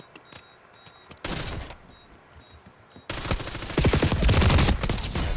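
Call of Duty Warzone gunfire: a few scattered shots, then a loud sustained burst of automatic fire, a pause, and a longer dense volley of rapid shots, close and with no talking.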